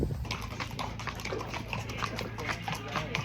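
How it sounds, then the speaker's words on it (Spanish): A ridden mare walks out at the start of a trail ride, her hooves giving a steady clip-clop close by, with soft rustling around it. "Aquí estamos empezando nuestro recorrido a caballo."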